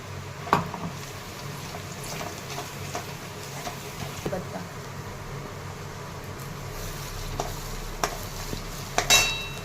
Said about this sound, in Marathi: आता हे लसूण खोबरं अद्रक हे टाकून घेत आहे